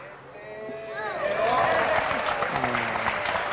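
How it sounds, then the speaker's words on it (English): Audience applause during a three-cushion billiards match, a steady wash of clapping that rises and holds, heard beneath a commentator's voice. "Why are people applauding?"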